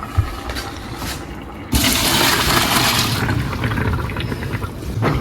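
Pasta water pours out in a kitchen as cooked noodles are drained, a loud, close rushing splash that starts abruptly and keeps gushing steadily for several seconds with no one speaking.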